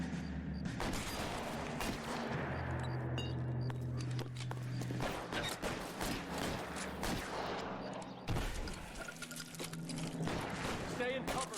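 Gunfire from a shootout in the video game L.A. Noire: irregular bursts of shots keep cracking through the scene, mixed with the game's background sound, while voices talk over the action.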